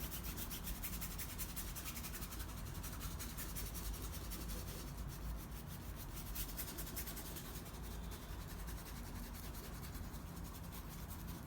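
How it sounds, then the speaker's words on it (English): A brush dry-brushes yellow ochre and black acrylic paint onto a painting in quick scrubbing strokes, a steady, faint, dry rubbing rasp that continues without pause. "And I'm just gonna dry brush here."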